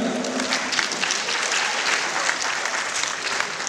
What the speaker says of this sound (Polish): Brawa za czaczę.